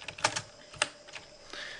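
Typing HTML code on a computer keyboard, a few close, quick key clicks in an irregular burst with no talk.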